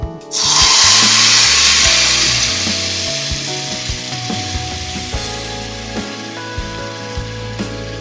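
Tamarind extract poured into hot oil in a pan for puli kuzhambu, an abrupt loud hissing sizzle that bursts up at once, then settles into a steady bubbling fry with occasional clinks of a utensil.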